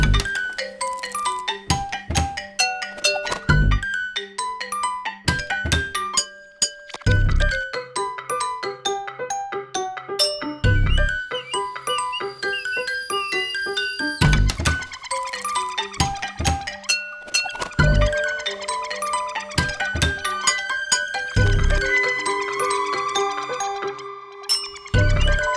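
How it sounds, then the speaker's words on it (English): A bright xylophone melody plays in steady rhythm with tinkling bells, backed by other instruments and a low bass pulse. "I laid down this xylophone melody, with a simple 1-4 progression"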